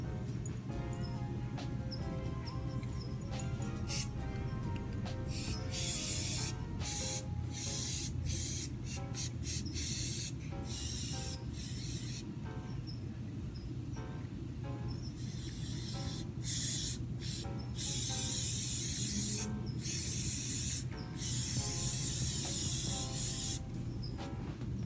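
A spray can hisses in repeated bursts of varying length, close and steady over a low background hum.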